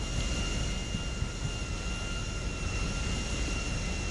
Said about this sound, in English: let's shut down the engines